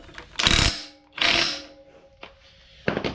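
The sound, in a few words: tightening truck rear end bolts with a wrench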